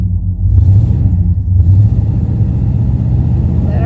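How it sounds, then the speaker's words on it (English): Vintage truck engine idling and revving while parked, a loud, close, rough low rumble that swells as the throttle is blipped and then holds a steady throaty drone. "Let's use up some petrol while we just sit here revving her up."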